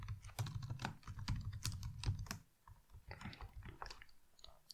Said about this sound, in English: let me give a password here